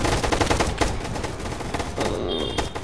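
Gunfire in a video game, rapid machine-gun bursts in quick succession, loud and close, with a brief pause before another volley.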